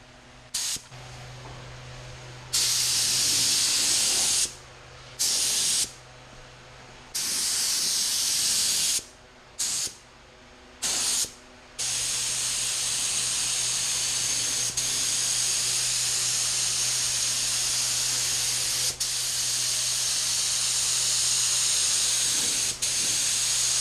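Spray gun laying flake paint onto a lowrider, loud steady hissing bursts that start and stop several times before running in one long continuous spray.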